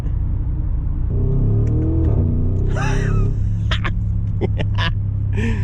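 A 2022 Audi SQ7's V8 engine rumbles steadily up close, its exhaust droning low with a brief rev, while faint voices chatter over it.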